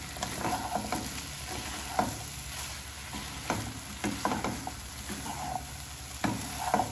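Kashmiri and red chili powder being stirred into a frying pan for watermelon rind curry, with repeated spatula scrapes and clanks over a steady low sizzle, close and moderately loud, no talking.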